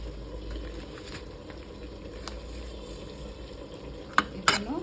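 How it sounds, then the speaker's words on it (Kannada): Chicken frying in a pan with roasted masala powder and kasuri methi gives a low, steady sizzle throughout, with a few sharp clinks near the end. "ಇದನ್ನು ಚೆನ್ನಾಗಿ ಫ್ರೈ ಮಾಡ್ಕೊಳ್ಳೋಣ."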